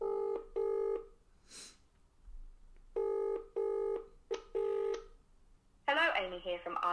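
A mobile phone dials out on speaker: two short tone bursts, then repeated paired ringback tones, clear and steady, before a voice answers at the end.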